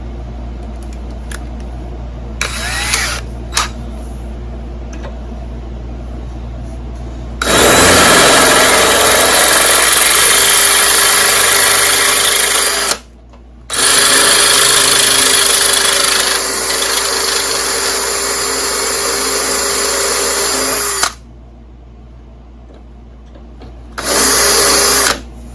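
A power drill bores into a stuck bolt with an 11/64 bit, whining loudly in long sustained bursts with short pauses between, a brief rev near the start and a final burst at the end.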